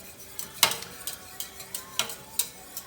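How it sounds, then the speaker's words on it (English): Grits being whisked into boiling cream and turkey broth in a pot, a metal whisk clinking and scraping against the side in a run of sharp taps, close and fairly quiet, with a faint simmer underneath. "I got the cream and the turkey broth boiling. And I'm going to whisk these grits in."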